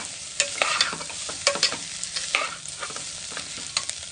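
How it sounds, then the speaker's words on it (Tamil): Chopped beans being stirred into moong dal in a hot pan: brisk scraping and clattering stir strokes over a light, steady sizzle, close up and without speech. "நல்லா மிக்ஸ் பண்ணி எடுத்துக்கோங்க."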